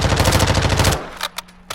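MP5 submachine gun in Call of Duty DMZ firing a rapid automatic burst of about a dozen shots, loud and close, then stopping abruptly and followed by a few sparse clicks and taps.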